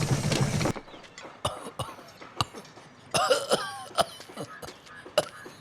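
A man coughs repeatedly in short, harsh bursts with throat-clearing between them, close and fairly loud over a quiet background.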